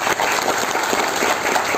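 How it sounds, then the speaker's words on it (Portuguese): Audience applause at an inauguration ceremony for a new INSS social security office in Barreirinha, a dense, steady wash of many hands clapping at close range for the whole short stretch, with no voices over it. "Uma salva de palmas para o nosso"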